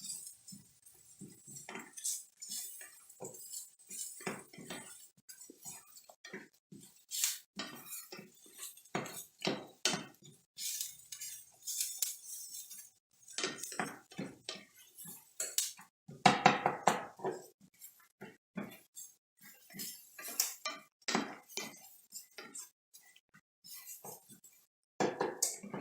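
A utensil stirs and browns rice in a pan, scraping and clinking in scattered, irregular taps and rattles of moderate loudness, with no speech over it.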